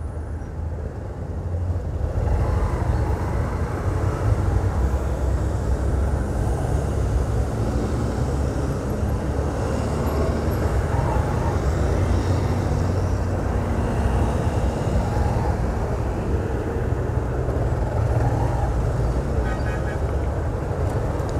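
Heavy morning rush-hour traffic on a road in Natal's north zone, Rio Grande do Norte: a steady, dense rumble of many cars passing continuously, loud and unbroken throughout.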